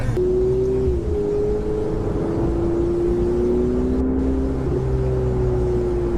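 A turbocharged Ferrari 488 GTB drones steadily from inside the cabin while driving, a smooth continuous engine hum that dips slightly with shifts near the start and again toward the end.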